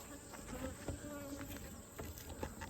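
Honey bees around beehives in evening shade in late summer, a faint, steady buzzing hum with brief louder passes of individual bees, quiet and without talking.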